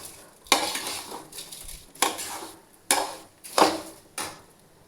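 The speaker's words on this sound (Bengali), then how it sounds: "দেখুন চালটাকে বেশ সুন্দরভাবে ভাজবো।" Rice and cashews being fried for pulao in a pan, with a spoon scraping and stirring in about five distinct strokes, each a close, gritty swish over a light sizzle.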